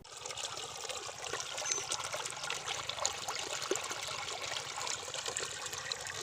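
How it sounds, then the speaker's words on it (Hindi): Drinking water escaping from a damaged pipeline onto a road, a steady hissing, splashing gush of water that stays loud and continuous without pause. "पाइपलाइन डैमेज होने से पीने का पानी सड़कों पर बर्बाद हो रहा है।"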